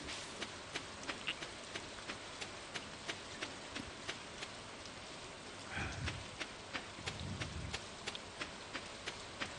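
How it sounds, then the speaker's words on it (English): Rain falls in the Stardew Valley farming game, a faint steady patter with a regular clicking pulse running through it and a couple of soft low thuds midway. "I do love when it rains."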